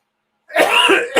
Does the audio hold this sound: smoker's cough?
yes